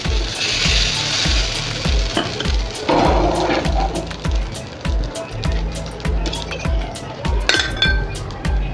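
Rice paper dosa batter made from ration rice sizzles and fries in oil on a hot tawa, a steady crackle with repeated metallic clinks and scraping of a utensil against the pan, close and fairly loud, no talk.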